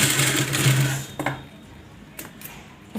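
A sewing machine stitches cloth for a small 11-inch Laddu Gopal outfit, giving a brief close whirring run that stops, followed by a few light mechanical clicks.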